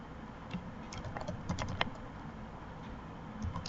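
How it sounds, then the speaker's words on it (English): Quiet, steady typing on a computer keyboard, irregular soft key clicks with a few sharper taps, heard close against a faint background hiss. "I am typing here as Amit Shah."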